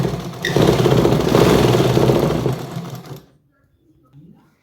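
A sewing machine runs steadily for about three seconds, stitching fabric below the elastic waistband of palazzo pants, loud and close, then stops and leaves near silence with a faint rustle at the end.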